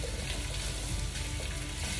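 Onions fry in a pan for a vegan Indo-Chinese chilli soya, crackling and sizzling at a steady, close level with faint stirring and no voices.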